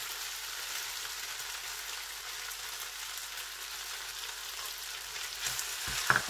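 Spring onions stir-fry in a pan with chicken spaghetti, a steady soft sizzle and hiss throughout, with a few brief clatters of stirring near the end.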